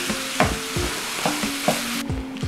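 Sausage for a roasted red pepper Bolognese sizzles steadily in a pan while a spoon stirs it in several quick, clattering scraping strokes, close and fairly loud.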